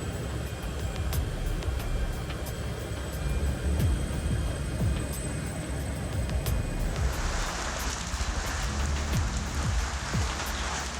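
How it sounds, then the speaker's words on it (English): Heavy rain with hail pours steadily on a surface, a dense hiss with scattered sharper hail impacts that intensifies in the final few seconds. "Imagine a terrifying hailstorm combined with a fierce hurricane."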